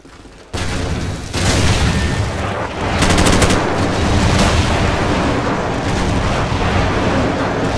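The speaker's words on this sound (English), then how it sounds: "Friendly airstrike on the way." Friendly airstrike explosions in a video game: a sudden loud boom kicks off a sustained, dense roar of blasts and rumbling detonations that keeps going steadily to the end, with no talk.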